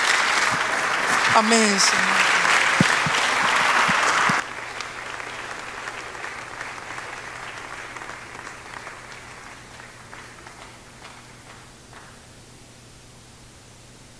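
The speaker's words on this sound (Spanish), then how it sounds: "Dele un aplauso a Jesús." A brief burst of dense congregational applause at a church service opens, with a voice calling out over it, then cuts to a quiet hiss with faint scattered claps fading away.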